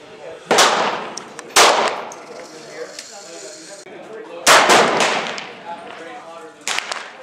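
Two pairs of sharp, loud 45 ACP gunshots fired from a 12 gauge shotgun fitted with a chamber adapter, each crack trailing into a decaying outdoor echo, with a fainter fifth report near the end.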